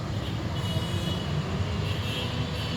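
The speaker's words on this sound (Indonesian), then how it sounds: "Itu LRT Palembang, kereta ringan." The Palembang LRT light rail train rumbles past at moderate distance, a steady low mechanical roar and rolling rail noise that holds level throughout, with no voices.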